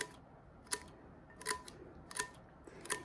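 Scissors snipping small diagonal slits in sublimation paper wrapped around a 20 oz straight tumbler, four crisp close cuts spaced roughly evenly in a quiet room.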